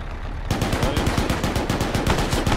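Rapid machine-gun and rifle fire in a World War II tank-division campaign video game starts abruptly and rattles on in fast bursts of close, loud shots, with no voices.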